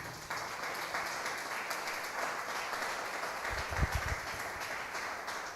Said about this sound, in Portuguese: Dê um aplauso ao Senhor por isso.